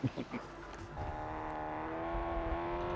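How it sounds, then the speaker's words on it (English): A vehicle in Call of Duty Warzone rolls closer with a steady, rising engine whir and hum that grows slightly louder, following brief voice bursts at the start. "There's a car pushing over to you guys."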